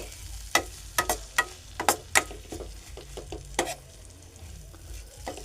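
Onion and tomato sizzle gently in a pan while a spatula knocks and scrapes against the metal in a quick series of sharp clicks, then stirs more sparsely.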